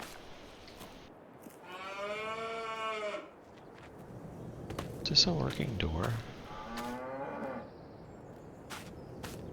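Farm cattle in the Farming Simulator 22 game let out two long, resonant moos a few seconds apart, with someone speaking briefly between them over a soft background of shuffling livestock.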